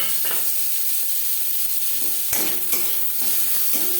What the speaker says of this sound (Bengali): গাজর হালকা করে ভেজে নেব দু তিন মিনিট পেঁয়াজের সাথে গাজর নাড়াচাড়া করে নেওয়ার পর